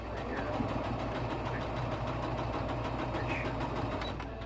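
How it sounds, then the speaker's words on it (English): A sewing machine runs steadily as fabric is stitched down, a continuous rapid mechanical whir and knock at moderate level throughout, with a person talking over it. "I'm going to go ahead and sew this one down"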